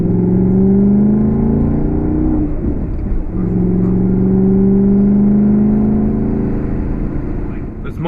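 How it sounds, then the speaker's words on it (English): An Audi S5 engine drones loudly and close, its exhaust note holding steady, briefly dipping, then rising again in a smooth rev. "rev it up and listen and enjoy my exhaust"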